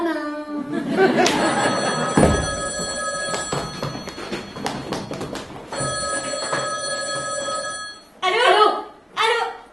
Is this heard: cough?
no